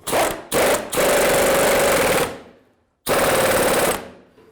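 A 24mm socket on a ratchet or impact tool snugs up the idler arm nut on a 2000–06 Chevy Tahoe, a loud, close rapid rattling burst that stops briefly, resumes, pauses, then runs again.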